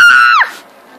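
A person screaming in a SpongeBob cartoon: one loud, high, sustained shriek that bends downward and cuts off after about half a second, alone and close.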